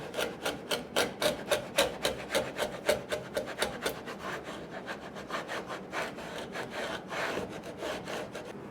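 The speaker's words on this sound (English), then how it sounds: "So we'll just trim the tenons up a little bit to fit that." Hand saw trimming wooden tenons, a close, rhythmic series of rasping back-and-forth strokes, steady at first and loosening toward the end, with no talk.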